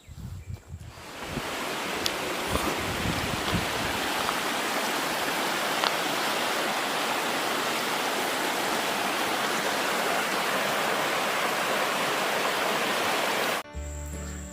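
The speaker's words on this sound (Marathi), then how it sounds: "खळखळ वाहणाऱ्या पाण्याचा आवाज देखील येत होता" A forest stream flows and gurgles steadily near a village in the Hirdas Maval woods of Maharashtra, a dense, continuous rush of water close by that holds for the whole stretch before cutting off abruptly at the end.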